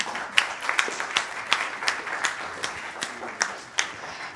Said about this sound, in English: A big round of applause to all the speakers.